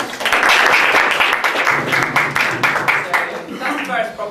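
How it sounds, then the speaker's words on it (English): Audience applause after a debate speech in a classroom-style session, a dense burst of clapping from a group that stays loud and steady, then gradually thins toward the end, with some voices mixed in. "Give them a round of applause."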